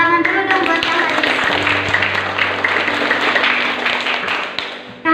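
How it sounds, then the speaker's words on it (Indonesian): A school hall audience gives steady applause for a speaker at a madrasa orientation event, dense clapping that fills the room and fades toward the end. "tepuk tangan dulu dong buat Kak Haris"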